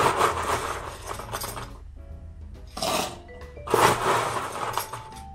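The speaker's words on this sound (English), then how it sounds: "I'm going to fill this up with some pebble ice" Pebble ice is poured into a Pearl Diver glass in bursts, a gritty clinking rattle that surges, pauses and resumes, close to the mic, with no talking.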